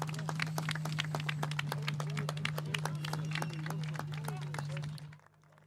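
Crowd at a Driftland pro class drift battle event applauding and clapping steadily, dense rapid claps with cheering beneath an electrical hum, fading out abruptly near the end.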